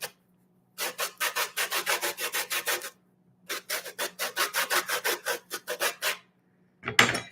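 Orange peel rasped over a zester into a bowl, two long runs of quick, even scraping strokes separated by a pause, close and alone, ending with a brief clatter.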